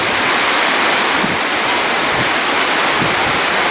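Steady gusty wind rushing through a garden, a loud continuous broadband roar with no pauses and no voices.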